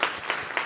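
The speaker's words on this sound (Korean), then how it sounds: "주님께 박수 한번 하셔주세요." Worship congregation clapping during a church service, a short burst of crowd applause with a few distinct claps standing out against the dense patter.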